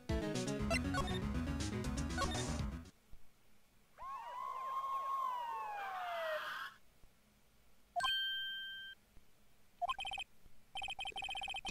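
A police siren in the Phoenix Wright: Ace Attorney video game sweeps up and down for a few seconds, rising as if drawing near. Synthesized music plays before it, and bright chiming tones follow.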